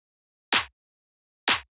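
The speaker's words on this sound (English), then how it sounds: "So the first thing here is just this clap." Two crisp electronic house clap hits, evenly spaced about a second apart, each sharp and bright with a short tail, alone against silence.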